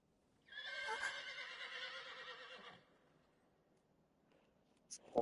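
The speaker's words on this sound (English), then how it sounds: "I just heard a horse outside my apartment." A horse neighs once, a long shrill whinny from some distance, followed by quiet and a faint clatter near the end.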